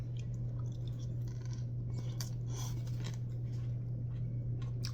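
Close chewing of a Firehouse Subs Hot Ones Spicy Dill Hook & Ladder sandwich, soft wet mastication over a steady low electrical hum, with no talking.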